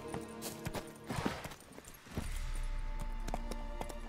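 Roach, Geralt's horse in The Witcher 3, trots along with clear, steady hoofbeats, close by, while game ambience hums underneath and a low rumble swells in the second half.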